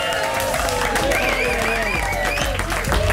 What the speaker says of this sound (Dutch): Geef hem een groot applaus, ladies and gentlemen